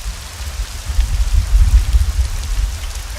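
Heavy night rain pours in a steady, dense hiss with a low rumbling wash underneath, loud and continuous, with no voices over it.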